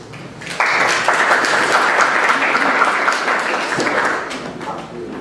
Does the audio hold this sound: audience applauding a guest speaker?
yes